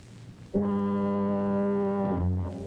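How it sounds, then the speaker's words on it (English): A deep, steady foghorn blast in San Francisco, warning ships off a rocky shore, sounds alone for about a second and a half, loud and droning with rich harmonics, then fades out. "the only sound is the endless bleat of the foghorns, warning ships of a rocky shore"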